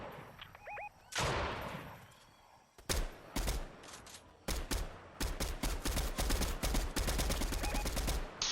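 Rapid video-game gunfire in Fortnite, sharp bursts of shots cracking in quick succession, loud and close, with a faint tonal chirp early on and sustained automatic fire through the second half.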